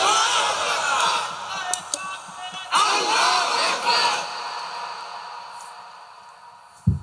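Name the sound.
crowd shouting takbir (Allahu Akbar) at religious gathering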